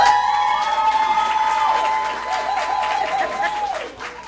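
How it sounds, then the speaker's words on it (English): Audience applause rises at a school board meeting after an assistant principal appointment for Richburg School is announced, a steady wash of clapping with some cheering and a whistled tone, fading slightly near the end. "Pause for applause."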